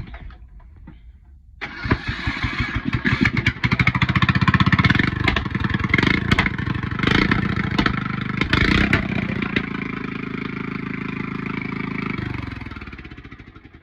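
A mud mower engine cranks, catches and runs, starting with a rough clattering burst and settling into a steady loud idle that cuts off near the end.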